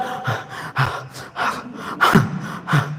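A voice imitates panting out of breath after running, with a rapid series of about six loud, sharp gasping breaths close to the microphone.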